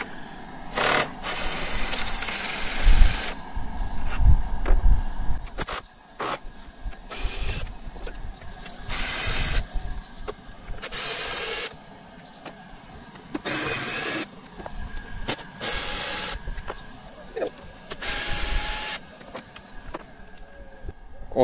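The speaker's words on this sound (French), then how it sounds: "il faut dévisser. Et il y a 7 points à dévisser. Avec un écrou de 10." A powered driver backs out bolts with a 10 mm socket on a Tesla Model 3 while a front trunk is fitted with a motorized opener. Short whirring bursts repeat at close range, separated by quieter pauses.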